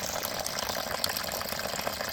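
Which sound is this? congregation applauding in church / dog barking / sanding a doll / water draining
water draining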